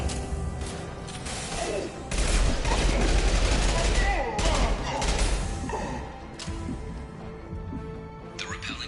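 Sustained bursts of rapid gunfire and impacts fill a Mass Effect Legendary Edition firefight, with someone talking over the shooting throughout.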